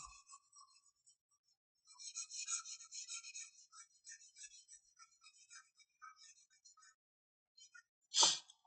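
Chalk or marker being rubbed off a board during an economics lesson, a series of soft scratchy wiping strokes in bursts, fairly close, with a sharper louder swipe near the end and no talking.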